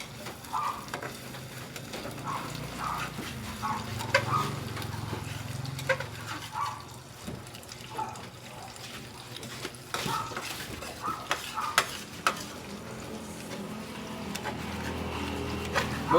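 An omelette with sardines being stirred in a pan, soft sizzling under repeated scraping and clinks of a utensil against metal, close and fairly quiet with irregular taps throughout.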